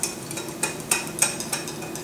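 Spices for tandoori chicken are stirred in a bowl, with light, regular taps and scrapes of a utensil against the bowl, about five quick clinks, close and alone.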